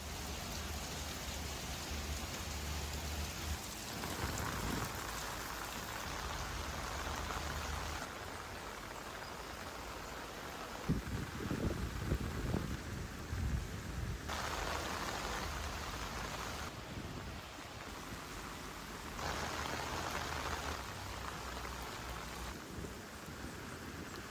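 Rain pours onto an REI Arete ASL 2 tent with thunder rumbling, a constant dense patter whose intensity shifts in stages, with a louder burst of thunder near the middle.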